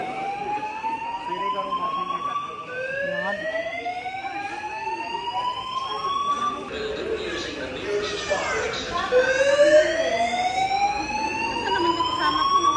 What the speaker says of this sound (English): So there's a fire alarm.